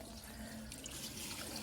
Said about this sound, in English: It seems to be flushing a little bit better now. So now we're gonna try a grocery bag.